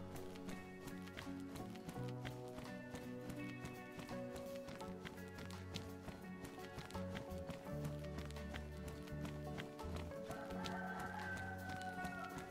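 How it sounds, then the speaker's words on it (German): A rooster crows in the survival game DayZ over steady game music, fairly loud, with footsteps and movement sounds mixed in and no talking. "Blöder Hahn."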